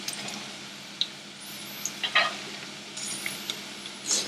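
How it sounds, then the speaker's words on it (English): Red chilies and garlic fry in a kadai with a steady, close sizzle, punctuated by a few light clinks of a utensil against the pan. "So once these begin to sizzle, we are going to add our garlic."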